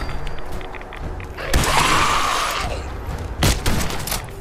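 Gunfire in the video game Fallout 4: loud, crackling bursts of shots at two separate moments over a constant bed of game noise, with no speech.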